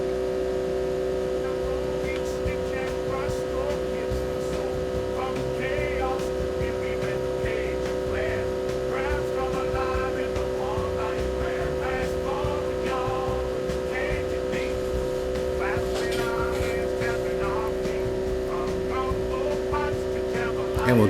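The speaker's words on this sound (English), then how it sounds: "The dual exhaust fans just kicked into high, and the air compressor also kicked on high" Dual exhaust fans and an air compressor run on high in a workshop, a steady loud droning hum with tonal whine that holds constant throughout, with faint clicks and small tool noises scattered over it.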